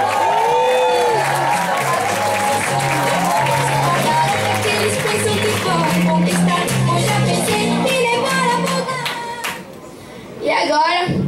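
A crowd claps and cheers loudly for a contestant, with sustained dense applause, whoops and voices over it, and a brief dip near the end before speech returns.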